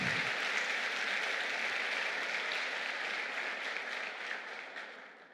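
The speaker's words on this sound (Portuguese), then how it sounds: "Aplauda o Senhor, porque Ele é bom e a sua misericórdia dura para sempre" A church congregation applauds during a celebration service, a dense, steady wash of clapping from many hands that holds throughout and tapers slightly toward the end, with no talk over it.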